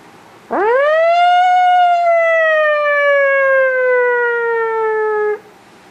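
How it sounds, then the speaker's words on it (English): A fire engine siren rises sharply, then holds a loud, steady wail that slowly drops in pitch before cutting off, heard close and alone. "You don't have to send the fire engine."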